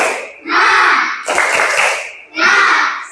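Schoolchildren in a classroom doing a rhythmic spirit clap, chanting loudly together in short bursts with clapping mixed into the group voices, close and energetic.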